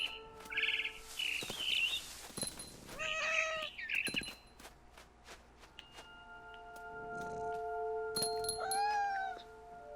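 A cat meows several times in the video game What Remains of Edith Finch. The meows are clear and close, with bird chirps and tweets between them and no talking.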